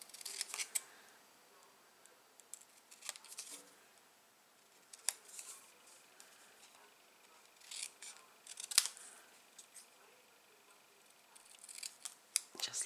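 Scissors fussy-cut paper for a handmade snowman card, with crisp close snips that come in short clusters separated by quiet pauses, faint and delicate throughout.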